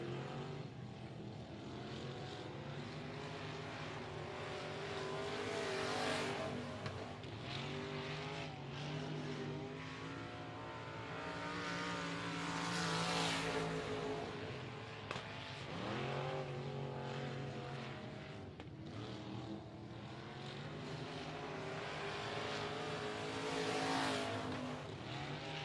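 Limited modified race cars lap a speedway, engines rising and falling as they pass in repeated waves, loud and steady with no talk over them.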